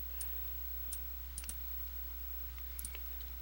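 Sharp mouse clicks come in small bursts, some in quick doubles, while items are being selected in animation software. They are faint and close, over a steady low hum, with no talking.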